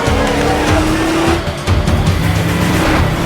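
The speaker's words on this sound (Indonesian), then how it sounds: "Pada balapan itu, Jack yang mobilnya telah disetting berhasil mengalahkan Danny dengan selisih waktu yang sangat" Cars roar in an illegal street race in a film scene, with loud, close engine drone and squealing tires skidding across the road.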